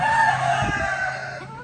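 A rooster crows close by, a single strained, wavering call over steady background noise.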